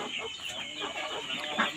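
Native country chickens cluck in overlapping short calls, with several birds close by in a busy farmyard and faint voices mixed in.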